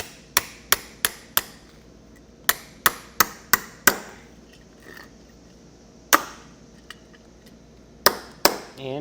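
A hammer strikes a metal breakaway switch bracket held on a wood block in sharp, ringing blows, mostly in quick bursts of four or five with pauses between, close and loud.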